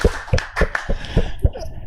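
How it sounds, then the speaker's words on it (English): Conference audience clapping in a small, uneven burst of separate hand claps spread over a couple of seconds, fairly close. "So a round of applause for yourselves,"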